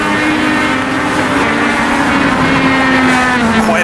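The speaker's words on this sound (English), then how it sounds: "Sequential gearbox, but you do get a lift and blip the shifts." A race car with a sequential gearbox drones loud and close in the iRacing video game, its engine note sliding slightly in pitch as it holds a continuous high-revving buzz.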